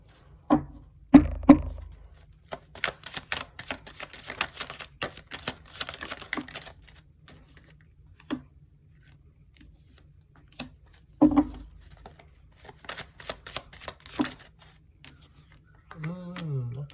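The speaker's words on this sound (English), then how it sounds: "You already know I shuffle on camera." Tarot cards are shuffled in quick, crisp riffles and soft bridging flutters, close up, repeated in several bursts with pauses between.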